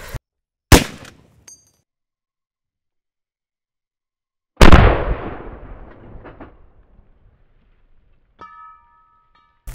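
Two booming AK-50 rifle shots in a video game, sharp and loud, the second rolling into a long decaying echo, followed by faint electronic tones.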